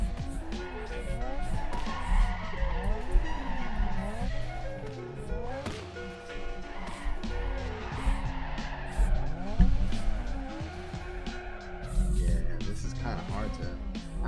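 Car in the video game Torque Drift 2 drifting steadily, with an engine revving and bouncing through rising and falling pitches while tires squeal and skid almost continuously. A voice talks over the top.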